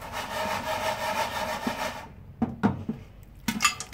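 A lidded pot of oil-free popcorn shaken on a stovetop gives a continuous rough scraping rattle for two seconds, then goes quiet apart from a few sharp knocks and pops.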